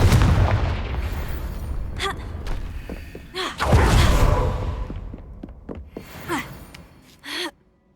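A Confringo blasting curse goes off in Hogwarts Legacy as a loud, booming explosion with a broad low rumble, followed by scattered impacts and a few gasping voice effects, with brief bursts near the end.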